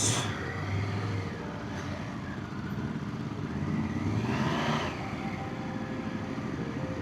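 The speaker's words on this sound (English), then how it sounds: "These are Harleys, right?" Harley-Davidson motorcycles rumble past on a road with low engine growl and a rising pass-by swell, fairly close and without talk.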